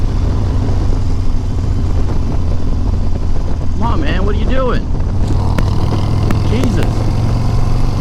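Loud, steady exhaust rumble from a Harley-Davidson Iron 883 Sportster with an exhaust leak, droning continuously while riding, with someone talking over it.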